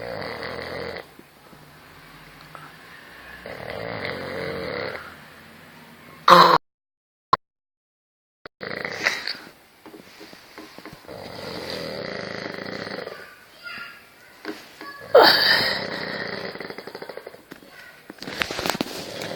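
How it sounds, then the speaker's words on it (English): Loud snoring from a sleeping person, rough rasping breaths rising and falling in uneven bursts, broken by a brief silent gap and a few sharper snorts. "It's the snoring beast."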